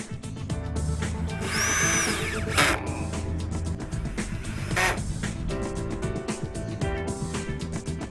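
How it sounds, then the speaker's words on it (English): A power drill drives screws into clips holding padauk wood decking planks to battens, giving short, close whirring bursts between quieter pauses, alone without talk. "you can now add a screw to their side in order to fix them to the battens"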